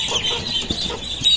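Newly hatched chicks peep near the microphone in short, high, repeated chirps, some overlapping, with faint low thumps underneath.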